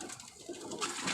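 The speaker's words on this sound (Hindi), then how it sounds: "ये कबूतर आप देख रहे हैं" Pigeons in a breeder's loft coo softly in a brief, fairly faint passage against a hissy room background, with no talking.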